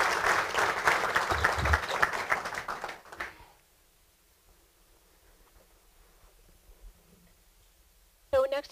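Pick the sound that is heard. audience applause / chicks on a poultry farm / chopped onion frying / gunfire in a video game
audience applause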